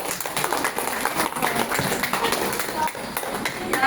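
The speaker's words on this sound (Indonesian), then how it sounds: "Tepuk tangan." An audience at a school event claps in scattered, uneven bursts, fairly close, with voices mixed into the clapping.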